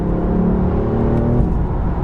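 A BMW M4 pulls hard under throttle, its engine note a loud, steady rumbling drone with rising harmonic tones for about a second and a half before easing off, heard from inside the car.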